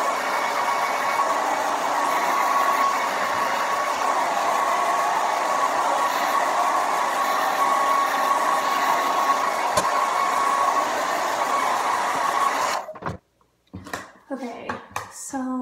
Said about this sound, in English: I'm gonna blow dry my hair really quick.